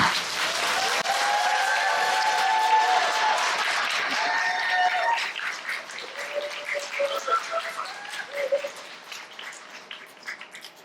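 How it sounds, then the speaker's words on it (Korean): An audience at a corporate sales case presentation contest applauds to welcome a presenter, with loud, dense clapping and some cheering at first, then thinning into scattered claps that trail off. "큰 박수로 모시겠습니다"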